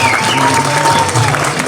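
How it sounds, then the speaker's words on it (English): Loud applause and cheering erupt from the crowd at a 50th wedding anniversary celebration, a dense continuous wash of clapping and voices that lasts the whole moment. "a nice loud round of applause"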